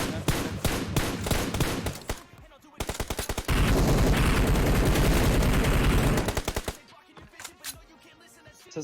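Rapid bursts of automatic gunfire from the battle royale game PUBG Mobile, loud and close, in several rattling volleys with a sustained stretch of continuous shooting in the middle, then scattered shots.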